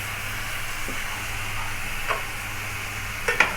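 Chunks of meat for a stewed kebab (kebab halla) sear in a hot pot, with a steady broad sizzle and hiss throughout and a few soft clinks and stirring knocks near the end, no voices.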